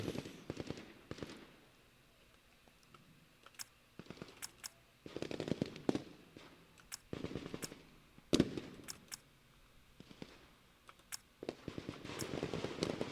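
Gunfire in the tactical video game Lock & Load Tactical, crackling in short, repeated bursts of rapid shots spread across the stretch with quiet gaps between volleys, fairly close and sharp.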